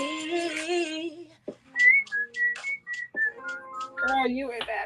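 A person whistles a melodic tune of clear, sustained notes and quick runs, close and fairly loud, alone without talking.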